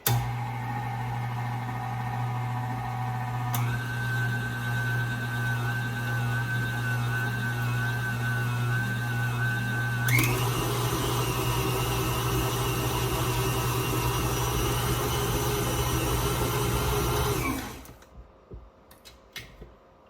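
Electric mixer beating flour into green tomato cake batter, giving a steady, close motor whir that changes pitch twice as the speed is switched before it stops near the end, with no talking.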